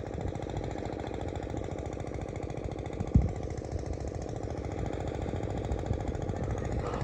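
An irrigation engine pumping water to paddy fields has been running nonstop for 80 hours. Its low, rhythmic chugging drone is steady and continuous, with one brief knock partway through.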